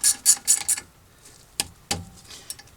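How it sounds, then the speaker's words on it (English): A ratchet tightens the brake caliper bolts on a 2014 Hyundai Accent during a front brake pad change. A quick run of four sharp clicks comes first, then a pause, then a few separate metallic taps and clicks, all close up with no talking. "And we can just tighten those up to spec"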